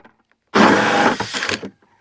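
A plastic bucket being cut with a power tool, one loud burst of cutting lasting about a second with a rough, buzzing texture, then a brief trailing grind before stopping.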